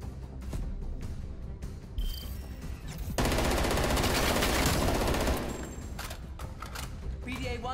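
Automatic weapon fire in Call of Duty: Black Ops Cold War, scattered single shots giving way to a dense, sustained burst of rapid gunfire lasting a couple of seconds, then sporadic shots again.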